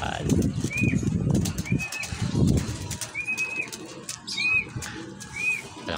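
Released pigeons flap and circle overhead, with repeated whistling wing and call sounds over nearby people talking outdoors.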